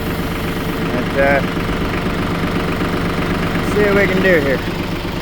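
A tractor engine idles steadily in the background with a low, continuous rumble and some knocking vibration, while someone talks over it outdoors near the raised boom.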